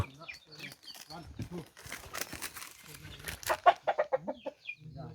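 Chickens cluck close by in short, irregular bursts, mixed with people talking nearby and some rustling.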